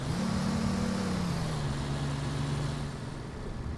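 A Mercedes-Benz Citaro G articulated bus in the OMSI 2 simulator gives a steady, loud diesel engine drone that holds its pitch, then sags slightly in tone as it pulls away, with no voices.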